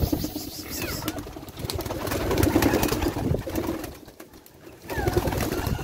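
Pigeons coo steadily inside a pigeon coop, a low continuous murmur of calls with occasional rustling and wing flaps nearby.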